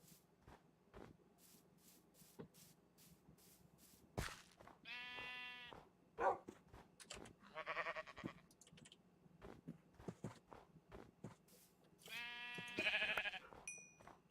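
Sheep bleating in the Minecraft mod Better than Wolves, several separate harmonic bleats spaced over a quiet backdrop of soft clicks and ambient game sound, the last call loudest and longest.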